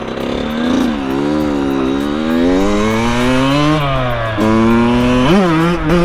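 A Kawasaki KX dirt bike engine, rebuilt, revving while being ridden: a loud, close two-stroke whine that rises and falls through several throttle sweeps, with sharp pitch jumps as gears change.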